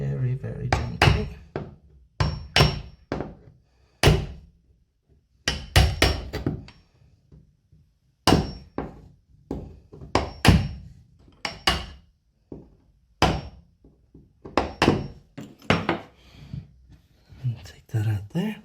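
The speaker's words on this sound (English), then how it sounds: "Run a chisel down the side of the tile and actually clean the grout off" A chisel scrapes and taps along the edge of a ceramic wall tile, clearing old grout during a broken-tile repair, in a string of sharp, close knocks and scrapes separated by short pauses, with soft talk between them.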